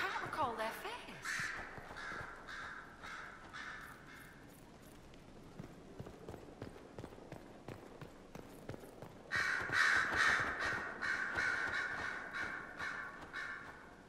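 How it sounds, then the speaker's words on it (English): Caged birds in the Dragon Age Inquisition video game, harsh crow-like caws repeating over a hollow clip-clop of hooves, with a louder burst of squawking calls near the end. "Why do we have birds in cages?"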